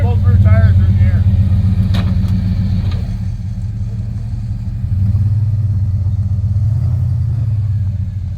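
An off-road rig on the King of the Hammers trails rumbles loudly as it eases forward off a rock, its engine drone steady and close, with a brief voice early on.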